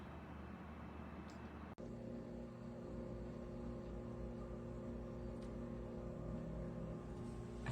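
A 47-quart Alpicool C50 portable 12-volt car refrigerator runs with a steady, fairly loud compressor hum and tonal drone, switching on abruptly after a moment of quieter background and continuing evenly without talk.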